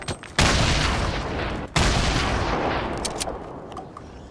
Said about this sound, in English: Oh, new gun. I got it. What's it called? Just submachine gun.